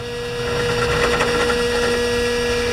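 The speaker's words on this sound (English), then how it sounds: "I'm going to drill a hole." A drill press whirs steadily as it bores a hole during work on a John Deere snow blower, a loud continuous motor hum with a slight rise as the bit bites in, no voices over it.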